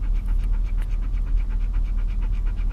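A hot dog pants quickly and steadily on a warm day on open land in Utah, the breaths close and rhythmic over a low background rumble.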